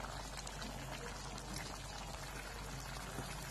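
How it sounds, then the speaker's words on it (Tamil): A pot of chayote kootu bubbles at a steady boil as grated coconut goes in, a constant close, dense simmering wash with no voices. "கூட்டு நல்லா கொதிச்சிருச்சு. இப்ப நம்ம வந்து தேங்காய் சேர்த்துக்கலாம்"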